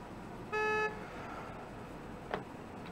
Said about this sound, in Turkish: Kime çaldın lan kornayı?